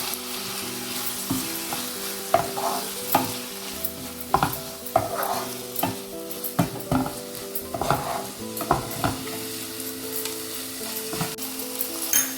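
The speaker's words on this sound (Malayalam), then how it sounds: "തക്കാളി ഉള്ളി എല്ലാം കൂടെ ഒന്ന് വഴണ്ട് വരട്ടെ." Tomatoes and onions sautéing in a pan of masala for a prawn roast, with a steady sizzle broken by repeated scraping stirs, close and clear, no talking.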